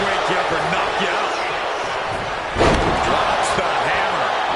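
A wrestling slam in the WWE 2K25 video game lands as a single heavy thud partway through, under excited commentary and crowd noise from the arena.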